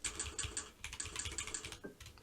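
Fingers type on a Drop Alt 65% keyboard with Cherry MX Brown switches, producing a quick, fairly quiet run of rhythmic keystrokes up close with no talking.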